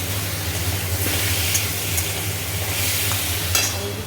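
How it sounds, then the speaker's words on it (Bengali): Onions, tomatoes, ginger, garlic and salt fry in a pan, giving a steady, close sizzle with soft stirring scrapes and a low hum beneath. "পেঁয়াজগুলো সব দিয়ে দিয়েছি, এবার ভালো করে ভাজা হোক"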